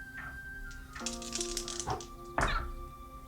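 Dice for a tabletop roleplaying game rattle and clatter across a table in two quick bursts. A faint electronic tone hums under them, and no one speaks.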